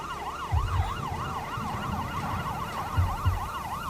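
Wailing ambulance siren used as a radio drama sound effect, a steady rising and falling tone cycling rapidly, fairly close and clear, with faint low traffic thumps underneath and no voices.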